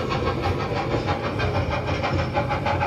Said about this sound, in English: there's sounds in the background to make it sound like you're actually on a real locomotive.